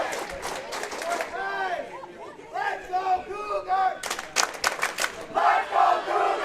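Elkhart Lake high school fans shout Cougar chants at a state bowling championship, rhythmic group chanting with sharp percussive claps or stomps and crowd noise echoing through the bowling alley.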